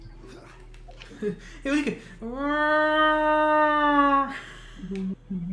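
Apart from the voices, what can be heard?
motorcycle sounding like a cat meowing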